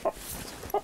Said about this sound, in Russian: наш огненный петух